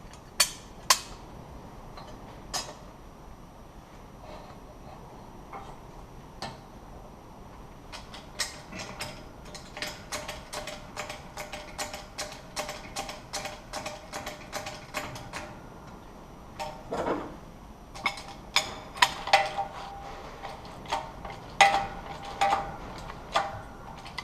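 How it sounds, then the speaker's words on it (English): Dimple die being pressed into a plasma-cut Honda Civic EG fuse box bracket, giving a run of sharp metallic clicks and ratcheting knocks in uneven bursts, close and fairly quiet over faint background hum, with no talking. "I'm going to dimple die these suckers"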